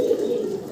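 A fancy owl pigeon gives a single low, soft coo, close and clear, with no talking.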